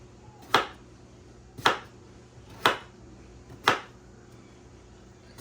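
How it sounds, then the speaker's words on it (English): Potatoes being chopped into small pieces for boiling and mashing, five sharp knife strikes against a cutting board spaced about a second apart, close and alone. "So I'm just chopping these up because I'm going to boil them so I can make mashed potatoes."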